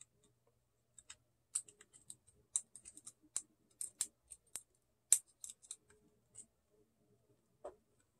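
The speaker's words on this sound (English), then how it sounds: "And slide in the replacement card in the same manner." A replacement WiFi card is slid into its slot inside a laptop, giving a quiet run of small plastic and metal clicks and scrapes in irregular bursts, close by and with no talking.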